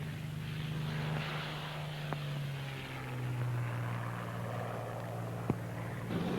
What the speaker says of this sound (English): aircraft which had been brought by ship from Britain and reassembled on the Rock were flown off to Tunisia